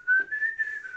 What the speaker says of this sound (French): Il siffle.